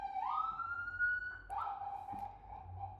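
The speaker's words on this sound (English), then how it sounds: "forgive the ambulance driving by" A passing ambulance siren wails in the distance, a faint rising and falling tone that is heard from indoors over quiet background noise.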